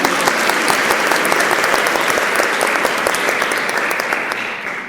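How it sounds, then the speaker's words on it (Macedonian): At a PichPrich comedy and theatre show in Kumanovo, a crowd breaks into strong, dense applause that carries evenly for several seconds and tapers slightly at the end, with no talking over it. "Молам да многу силен аплауз."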